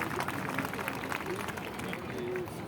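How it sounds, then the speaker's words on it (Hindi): Audience applause at a National Girl Child Day certificate presentation, steady dense clapping throughout with crowd murmur and some voices mixed in. "जोरदार तालियां शकुंतला के लिए"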